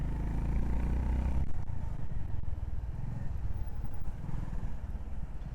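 Honda H'ness motorcycle engine while riding, a steady low rumble with a brief idle-like drone at the start before a broader road-and-wind roar continues throughout, no talk.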